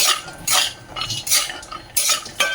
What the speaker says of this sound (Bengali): এখন এই যে কাঠবাদাম আর কাজু বাদাম ভেজে নেব বেশি ভাজার দরকার নয় হালকা ভেজে নিলেই হবে